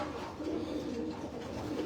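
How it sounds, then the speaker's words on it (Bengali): Pigeons on a rooftop coo in low, soft, rolling calls that repeat throughout, moderately close against a steady background. "ছাদে একটু দেখার জন্য কবুতরগুলার কি অবস্থা"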